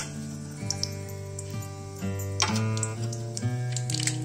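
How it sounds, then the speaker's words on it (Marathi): Mustard seeds and cumin pop in three to four spoons of hot oil in a kadhai while poha is being made: scattered sharp little crackles over a steady tonal background, with no talking. "मोहरी आपली फुटलेली आहे।"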